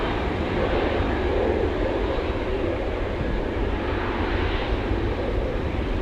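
An aircraft touches down on runway 15 at Anchorage in gusty winds, heard as a sustained broad engine and rolling roar at moderate distance, steady throughout, with no voices.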